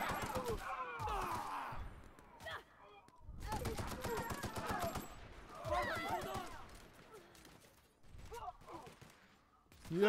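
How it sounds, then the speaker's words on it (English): Bursts of rapid assault rifle fire in The Outer Worlds, several clattering volleys in quick succession, close and loud, with a person shouting and talking between and over the shots. "Assault rifle!"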